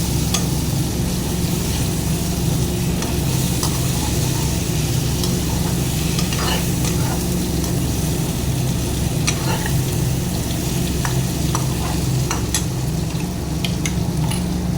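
Pointed gourd (potol) stir-fried with a spice paste for Bengali niramish potol posto gives a steady, close sizzle, with scattered crackles and light scraping from stirring throughout.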